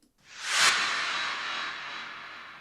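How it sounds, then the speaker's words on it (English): A sweeping sound effect for a music loop, rising quickly into a bright, airy hiss that peaks and then slowly fades over a couple of seconds, heard alone. "Then I found this sort of sweeping sound effect"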